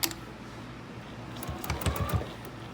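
Juki sewing machine stitching binding onto a quilt, a faint short burst of quick mechanical needle clatter rising toward the end after a quiet start, with no talking.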